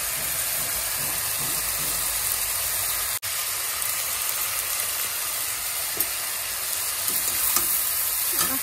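A vegetable curry sizzles and fries in a pan after salt and turmeric go in, a steady close hiss with faint stirring scrapes and a sharp click partway through.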